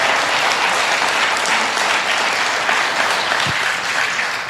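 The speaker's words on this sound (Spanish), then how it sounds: "¿Cuántos pueden darle un aplauso y decir un fuerte amén a esto?" A church congregation applauding, a dense, loud, sustained round of clapping that holds steady throughout.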